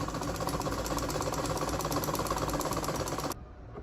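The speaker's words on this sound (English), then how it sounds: "Then we'll start sewing." Sewing machine stitching fabric for a button-down strap dress with a quarter-inch seam, a loud, close, fast even whir that runs steadily and then stops abruptly near the end.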